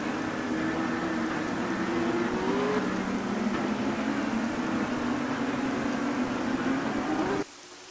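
A Porsche Supercup race car's engine drones steadily onboard at Imola, a loud sustained tone that rises and dips slightly before cutting off abruptly near the end.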